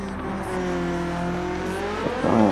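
A Lamborghini Murcielago race car's engine drones loudly in Gran Turismo 7, holding steady revs, then shifting pitch near the end with a brief squeal-like rise, without talk.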